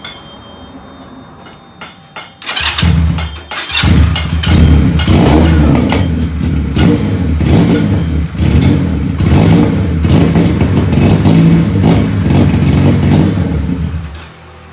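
A Benelli PE 250 fuel-injected motorcycle with a faulty MAP sensor and an erratic idle starts up after a short crank, then settles into a loud, close, uneven running idle with rough pulsing before it cuts off at the end.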